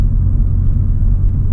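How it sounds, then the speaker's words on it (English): A Skoda Octavia RS with a Stage 3 TVS gearbox map and torque limiters removed drives on, a loud, steady low engine rumble filling the cabin with no clear shift breaks and no talk. "I have removed all torque limiters. The car is shifting as fast as possible,"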